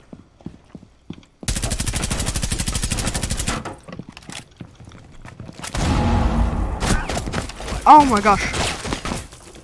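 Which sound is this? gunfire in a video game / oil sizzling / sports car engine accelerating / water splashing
gunfire in a video game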